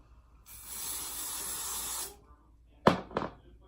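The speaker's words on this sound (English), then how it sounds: "I'll spray it with hairspray" Hairspray sprayed onto hair while getting ready for a cheer competition: a steady hissing aerosol burst of about one and a half seconds, close and fairly loud, followed by two short sharp knocks.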